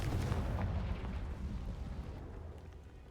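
The Confringo fire spell in Hogwarts Legacy goes off as a deep, rumbling explosion in the game, a heavy boom at the start that rolls away and fades over a few seconds.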